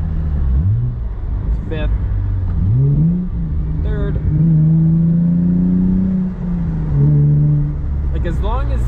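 Hyundai Genesis 3.8 liter V6 blips sharply for a rev-matched downshift while cruising around 45 to 50 mph, several quick rising and falling engine swells over a steady drone, with a brief spoken word inside the car.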